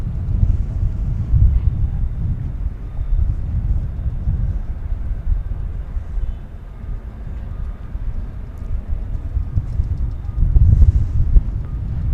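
Gusty wind buffets the microphone outdoors at DFW Airport, a loud, continuous low rumble that swells and eases in waves with a stronger gust near the end and no speech.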